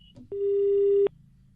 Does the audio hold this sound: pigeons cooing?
no